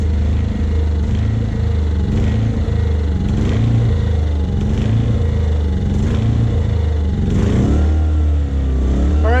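A Ryobi generator engine runs steadily at high idle after being taken off choke, a loud, constant close-up drone with a slight mechanical clatter and no talking.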